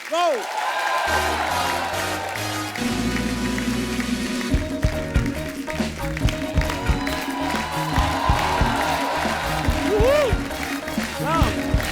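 A studio audience at The Kapil Sharma Show, a comedy show, bursts into loud, sustained applause and cheering to welcome guests onto the stage, with music playing and a host's voice over it.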